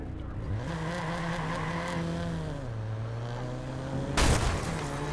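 A rattly car engine in the Watch Dogs video game revs steadily up close, its pitch rising, holding and then dropping, with a brief burst of noise near the end.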